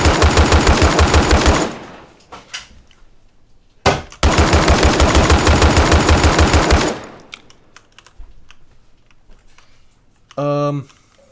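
An AK rifle in a video game fires two long, loud automatic bursts, with a brief shot between them and quieter clicks after, ending on a short tonal blip.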